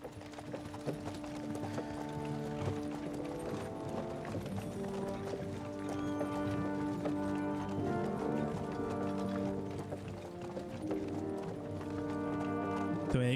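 Horse hooves clip-clopping in the Kingdom Come: Deliverance video game, a steady run of hoofbeats at moderate level set under a continuous layered game soundscape with music-like tones.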